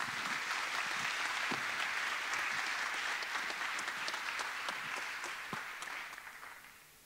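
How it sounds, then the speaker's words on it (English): Audience at a talk on mindfulness at Google breaks into full, dense applause that gradually thins and fades toward the end, with a few louder individual claps standing out. "Give him some clap."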